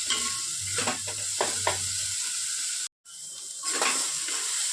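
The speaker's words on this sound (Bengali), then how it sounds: "সেই পেস্টটা। ভালো করে মশলাটা কষিয়ে নেব" A paste of onion, garlic, green chili and tomato sautéed for a dried-fish curry, close steady sizzling with several spatula stirs, briefly cut to silence midway, then resuming.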